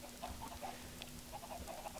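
Minecraft chickens cluck softly in a coop, a quiet flock giving short, scattered clucks in irregular bursts over a faint steady hum.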